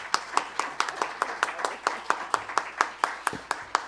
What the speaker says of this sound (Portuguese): Eu queria só pedir a todos aplausos de boas-vindas